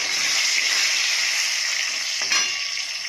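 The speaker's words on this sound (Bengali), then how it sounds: "পটলটা ভেজে নেব" Pointed gourd fries in hot oil in a pan, a steady, loud, close sizzle that carries on without a break, with one brief stir or scrape near the end.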